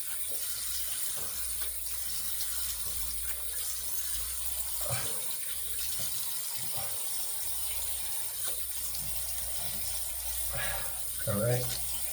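Tap water running steadily into a sink while a face is rinsed before a shave, a continuous close splashing hiss with a few brief louder splashes near the end.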